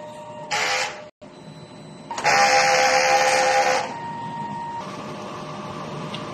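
DTF printer running a print head cleaning cycle, with alternating bursts of loud mechanical whirring and buzzing broken by a brief pause, then a quieter steady hum, close by with no talk.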